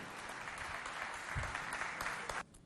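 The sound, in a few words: audience applause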